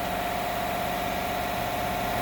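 A petrol car engine idles steadily at close range while its fuel injectors are being cleaned with a bottled cleaning product, giving a constant low hum with a faint vibration and no voices.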